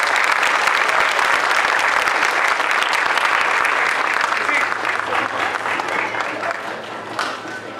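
An audience claps for the Unión y Progreso band of Santa Cruz after it performs an overture, with dense, loud, sustained applause that gradually thins toward the end.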